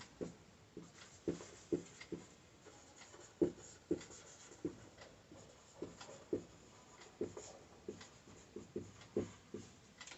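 A pen scratches across paper during a math class, working out an averages problem in a series of short, regular strokes and taps, close and fairly quiet against a soft background, with no talking.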